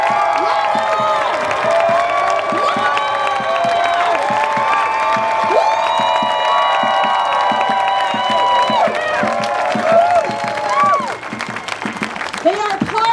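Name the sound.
rally crowd screaming and cheering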